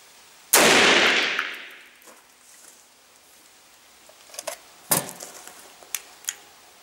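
An FN FAL rifle fires with its gas tube removed: a single loud, sharp shot with a long echoing decay, followed by several light metallic clinks and clatters.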